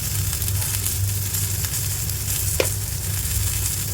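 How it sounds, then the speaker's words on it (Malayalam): Tomato, shallot and spice-powder masala sizzles steadily in a pan for brinjal curry, a continuous close frying hiss with a brief stirring scrape near the end. "ഈ പച്ചമണം മാറുന്നവരെ ഒന്ന് വഴറ്റിയെടുക്കാം"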